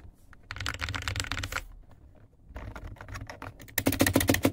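Rapid clattering keystrokes on a mechanical computer keyboard in bursts, with a pause in the middle and a louder, sharper flurry of clicks toward the end.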